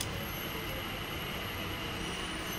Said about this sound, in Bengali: এই দেখো ট্রেন ঢুকলো